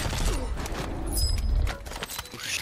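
Gunfire aimed at a helicopter in Warzone 2, rapid bursts of shots mixed with booms and rotor rumble, loud and close throughout.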